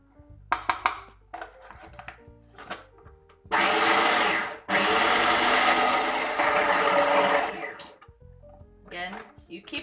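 A food processor whirs loudly through a falafel mixture of herbs and spices for several seconds, stopping briefly once, with lid clatter and scraping before and after; a voice talks between the runs.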